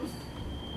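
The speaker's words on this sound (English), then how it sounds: "We are on the train." Public transit train ride in Salt Lake City, a steady rumble with a faint high wheel squeal and no talk over it, heard from inside the car for under a second.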